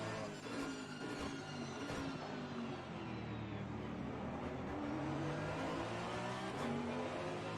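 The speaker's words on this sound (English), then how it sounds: "You can already hear the car behind Fusey" A video game race car engine at Suzuka roars steadily throughout, with revving pitch shifts and a continuous mechanical drone, no voices.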